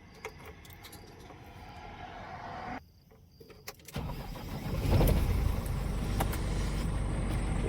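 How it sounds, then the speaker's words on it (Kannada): A truck at the start of a roughly 45-kilometre run, with key and cab rattles, a brief quiet, then the engine cranking and catching into a loud, steady idle and revving up close by. "ಗಾಡಿ ಸ್ಟಾರ್ಟ್ ಮಾಡ್ಕೊಂಡು ಇಲ್ಲಿಂದ ಓಡೋಣ"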